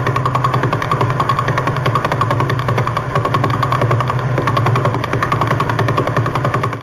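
Natural radio emissions from the radiation belts, recorded in space, form a dense, continuous crackling roar with rapid pulsing, loud and steady throughout, like a growling engine.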